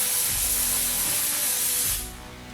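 Pressurized gas hisses loudly out of an over-tightened can as its pressure is released, a steady close spray that cuts off abruptly after about two seconds.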